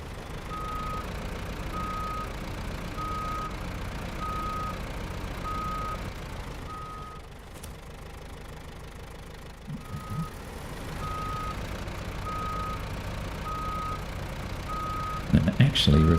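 Steady reversing beeps from a truck backing up in SnowRunner, evenly spaced and clear over a low engine rumble, pausing briefly midway before resuming, with a louder clunk near the end.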